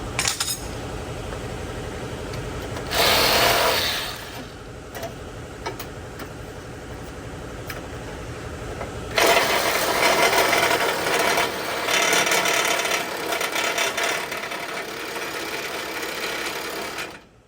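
A battery-powered Sawzall reciprocating saw grinds through a rotted cab mount on a Ford F-350 6.4 in a long, steady, close buzz. The pitch rises in two harsher stretches as the blade bites, and nobody speaks.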